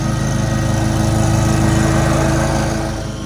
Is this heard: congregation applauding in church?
no